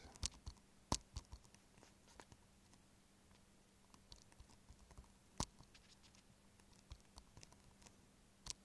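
Typing on a computer keyboard to send chat in a mobile strategy game, a sparse run of quiet, close key clicks with a few sharper taps, heard alone against a faint steady hum.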